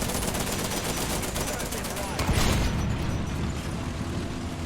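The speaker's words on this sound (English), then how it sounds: "I'm equipped with a ridiculous amount of machine guns. 2 in the turret and 1 on the top of it." In War Thunder, the TV-8 tank fires its turret-mounted and roof machine guns in dense, continuous bursts, loud and close. A heavier thump lands partway through, and the rattle continues to the end.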